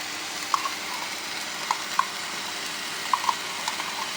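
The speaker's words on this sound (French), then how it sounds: "Donc on met bien fort pour cuire la tomate. Vous voyez, ça va très fort." Tomato paste cooking over high heat in a pan for homemade lasagne bolognese gives a steady, soft sizzle with a few light stirring clicks scattered through it.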